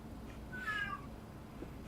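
A single short cat meow, moderately close, rising then falling in pitch over a low background hum; no talking.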